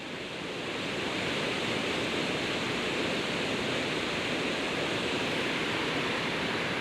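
Reekie Linn waterfall rushing, a steady broadband roar of falling water that swells in over the first second and then holds constant, full and unbroken, with no voices.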